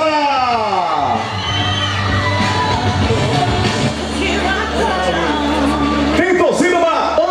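An excited crowd at a pineapple queen pageant in São Domingos, Maranhão, cheers loudly for a contestant, a continuous roar of whoops and yells mixed with shouting voices.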